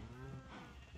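Sheep bleating in the Minecraft video game, a short, steady, close call that sounds over constant game background noise.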